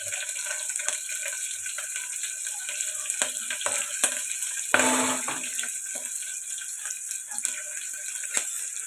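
Mustard seeds, cumin, green chillies, onions and curry leaves fry in hot oil for a lentil and tomato dish, making a constant close sizzle with scattered crackles and one louder burst midway.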